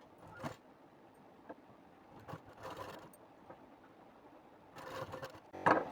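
A sewing machine runs a straight half-inch seam joining the shoulders of a blouse, in a few short, quiet bursts separated by pauses and light handling noises.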